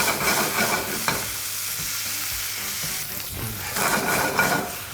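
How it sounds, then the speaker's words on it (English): Leeks sautéing in extra virgin Greek olive oil in a pan, a continuous hissing sizzle that dips briefly and swells again as the pan is stirred. "Put it on the pan. Just a little bit of extra virgin Greek olive oil."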